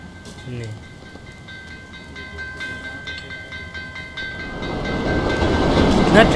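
Trains passing in the video game Assassin's Creed Chronicles Russia, with a steady rumbling roll that swells louder toward the end, along with faint whistle tones and other game sounds.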